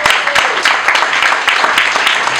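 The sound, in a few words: audience applause at a graduation award ceremony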